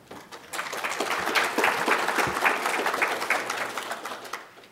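An audience at the ARRL TAPR 2008 Digital Communications Conference applauds a speaker's introduction, a dense wash of clapping that swells quickly, holds steady for several seconds, then tapers off.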